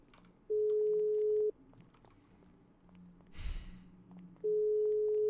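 In the GTA 5 FiveM video game, an unanswered phone call produces a steady ringback tone in two long, evenly spaced pulses of about a second each. Quiet breathing and a short burst of noise fall between them.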